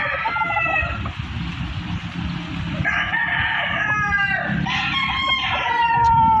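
Black Boston gamefowl roosters on a gamefarm crow in repeated drawn-out calls over steady low clucking and farmyard bustle, fairly loud and close, with no talking.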